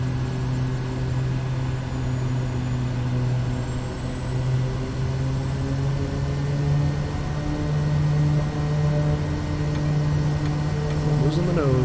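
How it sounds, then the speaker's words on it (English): A steady Kodiak 100 engine drone in Microsoft Flight Simulator 2020 with tonal whine that shifts pitch near the end as RPM changes and the high-pressure bleed valve changes. "As I change the engine RPM, you can actually hear the high pressure bleed valve change."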